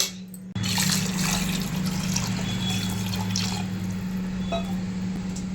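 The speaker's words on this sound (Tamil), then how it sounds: "ஒரு அழாக்கு தேங்காய் பாலும் அழாக்கு தண்ணியும் ஊற்ற போகிறேன்" Coconut milk and water pour steadily into a pot for ghee rice, a continuous close liquid splash and trickle over a low steady kitchen hum.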